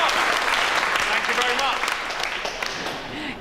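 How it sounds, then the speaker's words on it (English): Applause from a fitness class after a stretch, a dense wash of clapping that starts strong and gradually fades, with voices calling out over it. "Give yourself a round of applause."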